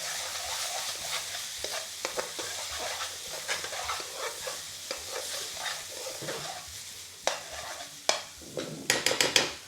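Tomato paste cooking down in a pan for a lamb curry, a steady close sizzle with frequent scraping stir strokes, then a few sharp utensil clinks against the pan near the end.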